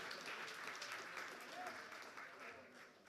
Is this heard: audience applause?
yes